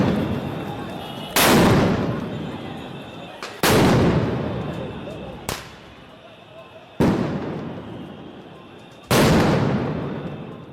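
Four loud, sharp blasts boom at intervals as police fire tear gas shells at protesters in a Dhaka street, each bang decaying into a rushing hiss.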